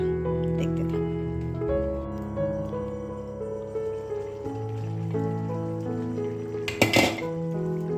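A single metallic clank near the end as a lid goes onto a pot of Bengali vegetable chorchori, heard over sustained background music.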